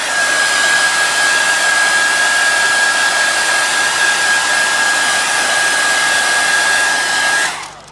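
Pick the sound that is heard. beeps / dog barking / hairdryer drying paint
hairdryer drying paint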